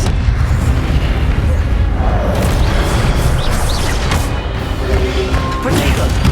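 Spell-casting effects from Hogwarts Legacy during the Expelliarmus spell. Several loud booming, crashing impacts land over a constant dense rumble, with no talking.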